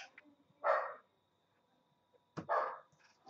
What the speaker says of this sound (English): Dog's going nuts.